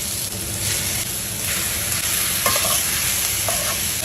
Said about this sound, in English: Now I'm gonna cook it on a skillet.